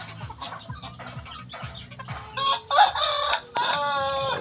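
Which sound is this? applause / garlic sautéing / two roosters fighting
two roosters fighting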